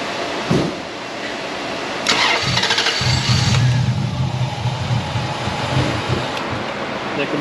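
A 2005 Dodge 1500 pickup with an intermittent stalling fault cranks over, a loud rhythmic churning starter drone that begins a couple of seconds in and continues without catching.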